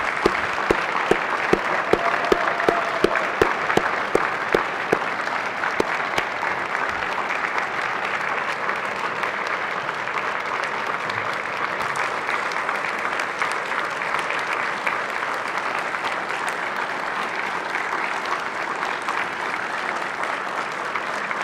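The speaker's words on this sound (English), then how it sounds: "How about another round of applause" A crowd in a state Senate chamber applauds steadily for about twenty seconds, dense clapping that stays loud and even throughout with no voices standing out.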